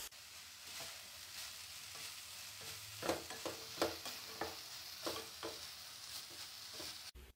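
Samosa filling with coriander and mint stirred in a pan, a soft sizzle running underneath as a spoon scrapes and knocks against the pan in irregular clinks.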